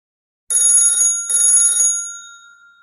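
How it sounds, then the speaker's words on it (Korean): A phone rings in the Mystic Messenger video game, two loud electronic trilling bursts in a row after a moment of silence, the second fading out slowly, with no voices. "따르르릉 전화 왔음."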